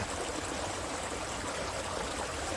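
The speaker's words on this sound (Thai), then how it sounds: "เราเห็นน้ำไหลแบบนี้" Water flows over a small dam used for farm irrigation, behind a hospital, giving a steady, continuous rushing and trickling wash that stays even and fairly quiet throughout.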